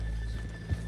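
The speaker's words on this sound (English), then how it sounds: "let's leave the horses here off the main drag" Horse hooves clip-clopping at a slow walk in the Red Dead Redemption 2 video game, a soft couple of thuds over a steady low background hum.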